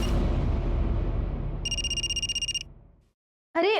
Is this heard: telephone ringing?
yes